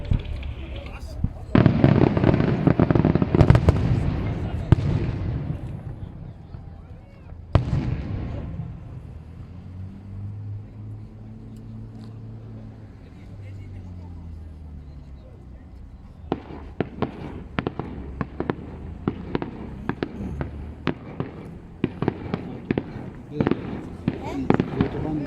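Large fireworks display at the Nürburgring truck Grand Prix, with bursts of loud bangs and crackles, a quieter stretch with a low rumble, then a long run of sharp, rapid firecracker-like pops; voices talk in the background.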